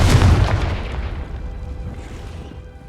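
A loud, booming explosion from the Confringo fire spell in the video game Hogwarts Legacy, a single heavy blast that decays into a fading rumble over about three seconds.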